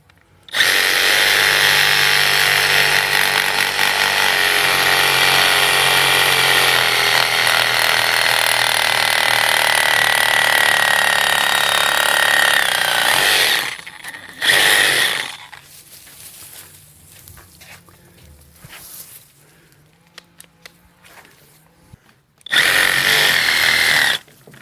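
Power saw cutting off part of a zelkova bonsai: a loud, close, steady whining drone running for about fourteen seconds, then quiet handling, then a second short burst of cutting.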